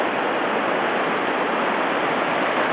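Rapids on the Robson River in British Columbia rush close and loud in a steady, unbroken roar as waves ripple past rocks.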